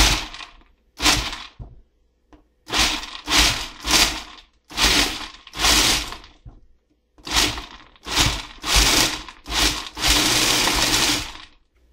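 Food processor pulsing dates and nuts into a sticky dough: about a dozen loud, short mechanical whirring bursts separated by brief pauses, ending in one longer continuous run, with no talking.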